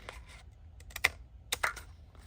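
Paper being cut out for handmade faux cabinet cards with a craft die, a few crisp close clicks and snips in short bursts with quiet gaps between them.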